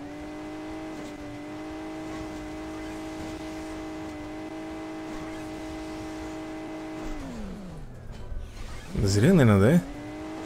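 A Ferrari engine in Hill Climb Racing 2 holds a steady tonal drone, then drops in pitch and flares into a short, wavering rev near the end. Someone speaks briefly over it.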